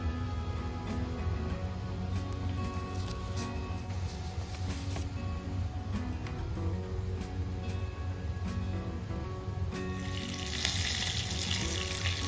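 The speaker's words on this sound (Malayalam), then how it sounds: "ചൂടായ എണ്ണയിലേക്ക് ചിക്കൻ ഇട്ട് ഫ്രൈ ചെയ്യാൻ വെച്ചു" Chicken pieces frying in hot oil, a dense steady sizzle with crackling bubbles, close and continuous, no voices.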